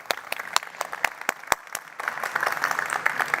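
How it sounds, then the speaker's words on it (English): Applause at a tech conference talk starts as a few sharp, separate claps and builds into denser, continuous clapping from the audience, moderately loud and close. "A big round of applause for her."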